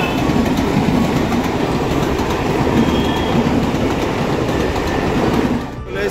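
A local train rolls into Uluberia station near Howrah, a steady loud rumble of wheels on rails with clickety-clack rhythm and faint squeals, easing slightly at the end.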